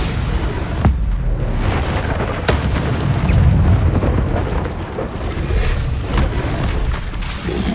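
Spell explosions in Hogwarts Legacy, with Bombarda and Confringo blasts going off as deep booms and sharp bursts, several close impacts over a continuous loud rumble of combat.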